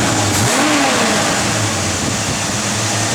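A 1967 Chevrolet C10 pickup's engine revs hard and loud up close, a steady mid-range roar rising and holding with no talk over it.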